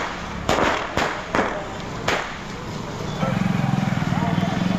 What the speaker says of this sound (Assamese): ফটকা ফুটাইছে একাংশ লোকে